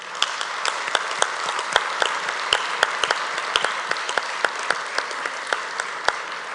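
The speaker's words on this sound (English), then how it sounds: "give yourself a huge round of applause to mark the end of this." Audience applause at the close of a general assembly opening ceremony, a steady bed of crowd clapping with sharp individual claps popping out irregularly on top, moderately loud and continuous.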